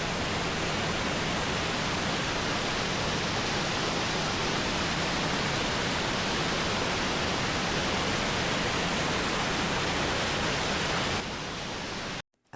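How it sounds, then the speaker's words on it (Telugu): Siddharamappa Kolanu waterfall near Srisailam, a dense, constant roar of falling water filling the whole stretch at steady loudness, close by and unbroken until it cuts off abruptly at the end. "ఫైనల్లీ సిద్ధరామప్ప కొలను వాటర్ ఫాల్స్ దగ్గరికి అయితే వచ్చేసాము."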